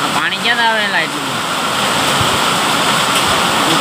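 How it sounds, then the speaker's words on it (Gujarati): Monsoon rain pours steadily onto a tin sheet roof, making a loud, dense, continuous hiss and patter. A voice is heard briefly at the start. "આવ્યો વરસાદ કીધું ના હેરાન થતો હવે ગરમી જાય ટાઢું કરી દીધું"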